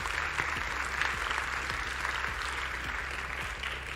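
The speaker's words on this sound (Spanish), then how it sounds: "Por favor, un aplauso para Arturo." Steady audience applause fills a conference hall at a science and futures congress, a dense sustained clapping that holds evenly throughout with no talk over it.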